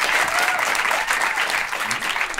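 An improv show audience in Paris breaks into thick, continuous applause, many hands clapping together at a strong, even level for a couple of seconds.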